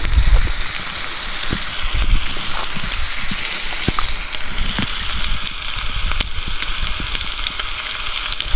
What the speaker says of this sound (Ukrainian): Шкварки мої дожарюються